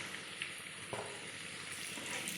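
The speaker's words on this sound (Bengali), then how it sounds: "আলুগুলিকে একটু আমি ভেজে নেব।" Potatoes for chicken biryani fry in hot oil with a continuous, even sizzle, close and moderately loud, with a small knock partway through.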